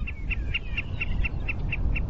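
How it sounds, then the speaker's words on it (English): A Wilson's snipe's short call repeats steadily, about four times a second, over a low wind-like rumble; the notes are clear but fairly quiet. "This is a Wilson snipe."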